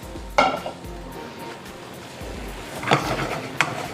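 Fresh spinach cooking down in a pan for a vegan frittata, with a soft steady sizzle, a few sharp stirring scrapes and clinks of utensil on pan, no talking.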